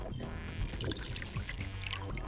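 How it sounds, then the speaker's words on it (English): Ethanol pours into a beaker in the game Virtue's Last Reward, a close, continuous gurgling trickle of liquid with small splashy bursts running throughout. "I need to pour the ethanol into the beaker."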